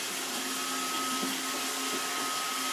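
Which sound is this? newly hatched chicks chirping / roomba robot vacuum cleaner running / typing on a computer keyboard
roomba robot vacuum cleaner running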